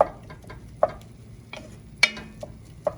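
Ground meat browning in a pan for shepherd's pie soup, a soft steady sizzle broken by sharp scraping and clacking of a utensil crumbling the meat every second or so.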